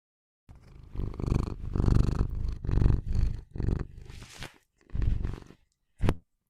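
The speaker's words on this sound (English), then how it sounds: "Oh my god, he's purring." A cat purring close to the microphone in a series of rough, rumbling bursts of a second or so each, separated by brief silences, with a short final burst at the end.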